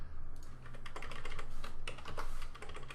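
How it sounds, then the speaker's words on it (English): Rapid, close clicking keystrokes on a computer keyboard, clattering in quick, uneven bursts over a quiet low hum. "So I should be able to type up here"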